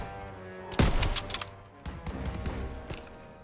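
A burst of rapid gunfire in the video game Call of Duty: WWII, Normandy landing, with sharp cracks and echoing shots, followed by a few scattered bangs, moderately loud.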